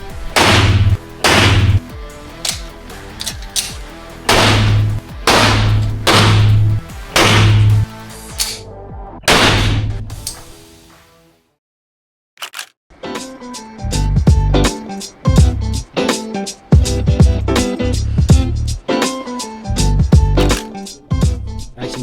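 Para 1911 pistol in .40 caliber firing at an indoor range, a long run of sharp, loud shots in rapid bursts with a brief silent pause midway, then further quick reports echoing in the enclosed space.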